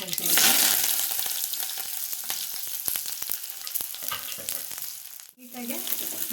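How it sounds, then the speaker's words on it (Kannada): Mustard seeds spluttering, then onion and curry leaves frying in hot ghee for an aubergine chutney, a steady loud sizzle with scattered crackling pops and a brief dip near the end. "ಅದು ಚಟಪಟ ಸಿಡಿದಾದ್ಮೇಲೆ ಈರುಳ್ಳಿ ಮತ್ತು ಕರಿಬೇವಿನ ಸೊಪ್ಪು ಹಾಕ್ಕೊಳ್ತಾ ಇದ್ದೀನಿ."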